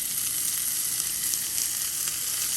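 Spinach tossed into a hot pan, a dense steady sizzle and crackle of frying greens, close and continuous with faint stirring, no talk.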